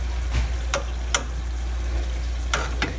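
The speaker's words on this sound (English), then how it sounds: "So let me give it a stir and then we'll taste it to see what it needs" Spicy shrimp with chili and black pepper get stirred in a pan, with a steady low sizzle and a few sharp scraping clicks of the utensil against the pan at irregular intervals.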